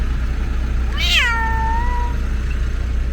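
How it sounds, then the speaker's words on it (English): A single drawn-out cat meow, rising then falling, sounds clearly outdoors in a hot Costco parking lot over a steady low hum of background noise. "I've got the kitties outside right now"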